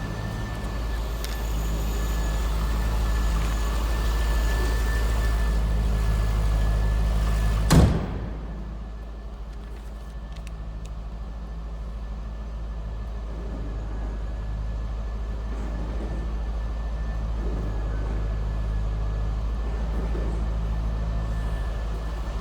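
A 2003 Chevrolet Corvette 50th Anniversary Convertible idling with the engine running, a steady low rumble with a sharp click partway through, then a slightly quieter, even drone.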